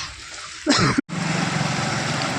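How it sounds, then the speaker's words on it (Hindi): A vehicle pushes through flood water in a waterlogged market street in Jhanjharpur, a broad splashing surge up close, then a steady rushing wash of water and engine noise continuing after a brief cut. "देखिए कतेक पानी में जा रहा है गाड़ी"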